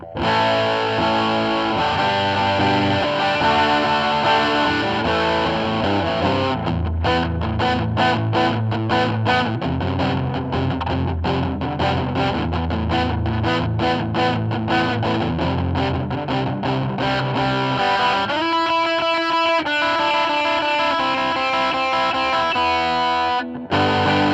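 Electric guitar through a ZenDrive overdrive pedal plays chords and riffs with a gritty, crunchy tone, loud and continuous, ending with a few sharp strummed hits.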